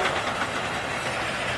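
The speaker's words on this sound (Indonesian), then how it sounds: "muncullah kereta api berbahan bakar uap" A train rumbles past close by, a steady loud roar with dense clattering texture throughout and no voices.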